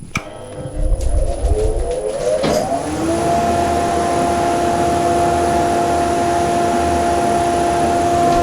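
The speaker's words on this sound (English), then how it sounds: "Pop the extractor on." A dust extractor in a woodworking pen-turning workshop starts up after a few seconds of clatter, then settles into a loud, steady, unbroken drone with a faint whine for the rest of the clip.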